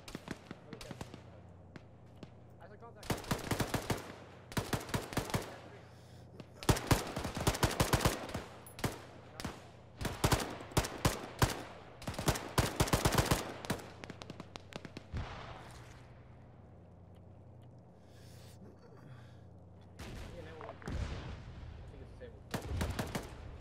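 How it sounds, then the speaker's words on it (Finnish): Gunfire in the military video game Arma 3: repeated rapid automatic bursts and single shots cracking loudly in clusters across the scene, with quieter gaps between volleys. "mä ammun vihollisen vaunua"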